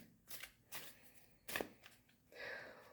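Tarot cards being shuffled by hand in a few short, soft riffling bursts separated by quiet pauses, faint and close.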